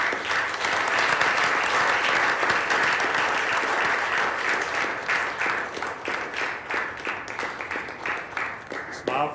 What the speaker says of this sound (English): Another round of applause for this guy.